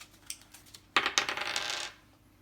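Dice tumble across a tabletop during a board game turn, a sharp clatter followed by a rapid rattling roll that fades after about a second, with no talking.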